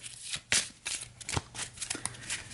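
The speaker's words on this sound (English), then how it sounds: "we'll give this cornerman deck a shuffle" A cornerman card deck for a tabletop boxing game gets shuffled in several quick riffles and bursts of card flutter, close and fairly loud, with no talking over it.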